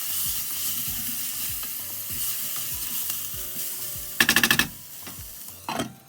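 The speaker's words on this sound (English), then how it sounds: "add the ginger garlic chili paste and make sure you fry this up properly. And the turmeric. Just let that cook for a minute." Ginger garlic chili paste and turmeric fry in a pan for dal, a soft steady sizzle with a regular scraping stir, then a burst of rapid clattering knocks and another short rattle near the end.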